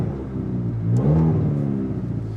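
A 2020 Chevy Sonic with a turbo engine revs up close, its steady mid-pitched hum swelling into a louder rising rev near the middle and then settling back to a smooth drone.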